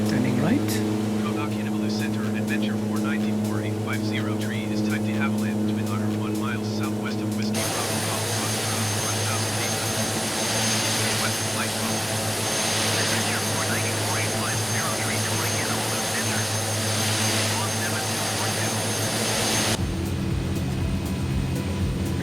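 A simulated de Havilland Twin Otter turboprop in Microsoft Flight Simulator 2020 gives a steady, loud propeller drone and engine hum throughout, heard from the cockpit, with the tone shifting as power settings change.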